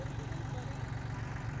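A tractor engine idles steadily on a rural Alaska off-grid property while a garden plot is dug, giving a continuous low rumble with a fast, even pulsing throb.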